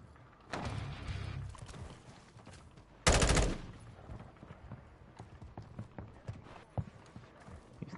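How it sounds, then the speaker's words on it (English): A sniper shot from a video game cracks out as a sharp burst, then a second, louder one, with softer clicks and movement sounds between them. "We're getting sniped at from somewhere."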